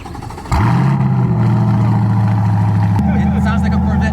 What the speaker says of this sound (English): It sounds like a Corvette now.